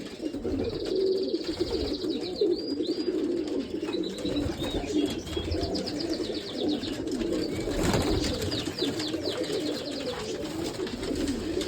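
Pigeons kept in an Izmir loft coo in a constant, close, layered low murmur, with faint chirps scattered above it and no talk.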